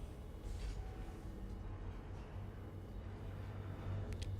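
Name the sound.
train running in the video game Satisfactory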